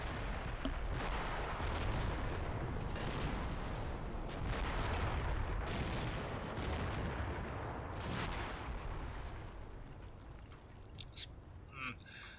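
Mortar blasts and gunfire in a military video game roll on as a dense, continuous battle din with repeated booms and bursts, while voices are faintly present beneath it.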